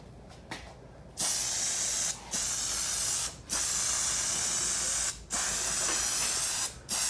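Rust-Oleum spray paint hisses from an aerosol can onto a rusty Jeep in long, steady bursts with brief pauses between passes, loud and close.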